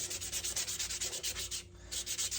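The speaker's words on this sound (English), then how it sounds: "some hand finish sanding on this" Rapid, rhythmic back-and-forth hand sanding strokes on a knife handle, close and steady, with a brief pause near the end before resuming.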